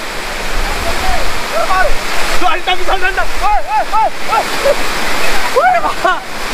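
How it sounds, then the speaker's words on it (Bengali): Ghagh Pocha waterfall near Turga Dam in Purulia rushes in a loud, steady close-up roar, with birds chirping repeatedly over the constant flow of water. "আর এটা হচ্ছে ঘাক পচা ওয়াটারফল"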